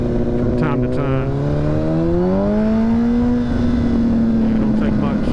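A motorcycle engine revs steadily as the throttle is pulled while riding, its pitch rising and holding close and loud over wind noise, with a voice talking partway through.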